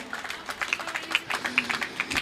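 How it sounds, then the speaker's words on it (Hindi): Applause from an audience at a Hindi comedy-poetry stage show, a steady patter of many hands clapping for about two seconds at moderate distance, with no voice over it. "एक बार तालियां बजाइए जरा"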